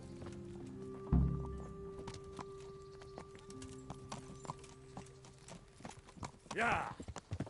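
Horse hooves clip-clop at a steady walking pace while riding in the medieval video game Kingdom Come: Deliverance, with a dull thunk early on, a short whinny near the end, and faint game voices in the background.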